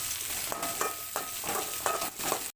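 Grated coconut sautéing in a pan with pepper, cumin and fennel, a dense close sizzle broken by rhythmic metal spatula scrapes and clinks about every half second, with no speech.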